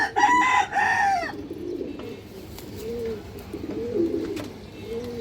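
Pigeons of an old-line breed coo in low, repeated rolling calls, with a louder bird call at the start followed by steady soft cooing close by.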